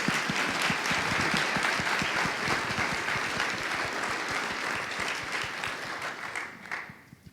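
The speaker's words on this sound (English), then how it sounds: "Please give them a round of applause." A crowd at a university panel discussion on sport, business and race gives sustained applause, a full, dense roar of clapping with some distinct nearby claps that gradually thins and fades near the end.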